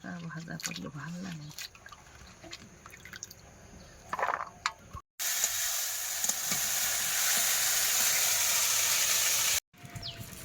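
Potatoes and long beans sizzle loudly and continuously in a hot pan for several seconds, following softer kitchen clatter and nearby talking.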